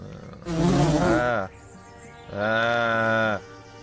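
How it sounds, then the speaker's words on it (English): Wasps in the Lords of Xulima fantasy role-playing game, two loud sustained droning buzzes each lasting about a second, separated by a brief quiet pause. "Don't like wasps."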